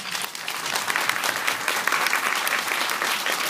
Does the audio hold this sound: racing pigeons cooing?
no